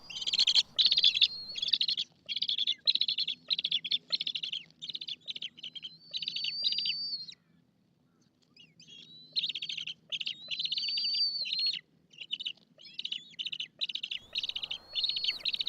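Two bald eaglets, Mira and Zeagle, chirp from a nest in a long run of high, thin, insistent calls, mostly rapid bursts with a short lull midway, loud and close.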